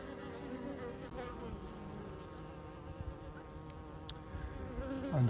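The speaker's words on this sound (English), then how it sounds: "It's like a small swarm." Honeybees swarming into a cavity in a maple tree outdoors fill the air with a dense, continuous buzzing hum that stays steady throughout.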